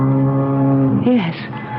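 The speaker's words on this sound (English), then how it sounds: "Foghorn is a lonely sound." A foghorn sounds at sea in a radio drama, a deep, steady droning blast that holds for about a second before bending and breaking off, fairly loud and alone.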